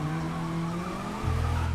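A car skids in Need for Speed (2015), a sustained engine drone and tyre squeal that shifts to a lower, stronger tone near the end of the short burst.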